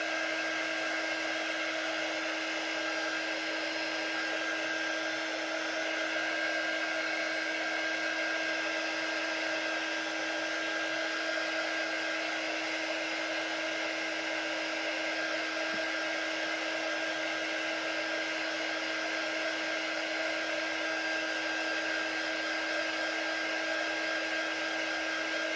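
A hair dryer blows steadily and close by, drying a handmade craft project on a craft table, with a constant even whir that runs unbroken the whole time and no talking.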